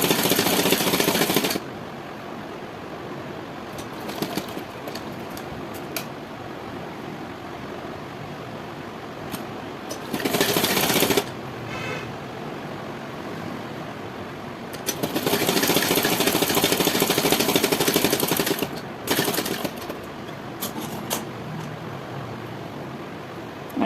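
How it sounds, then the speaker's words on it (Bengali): Sewing machine stitching a princess-cut blouse with pinned fabric, running in several loud bursts of a few seconds each, separated by quieter gaps with small clicks and handling noises; no talking. "আমার একটা পোর্শন সেলাই হয়ে গেল, এবারে আমি এই পোর্শনটা সেলাই করছি।"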